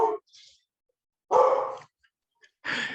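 A dog lets out three separate barks, loud and close, with short silent gaps between them and no one speaking.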